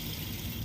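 Water runs steadily from a kitchen tap during fish washing, a brief continuous hiss and splash at moderate level with no voices.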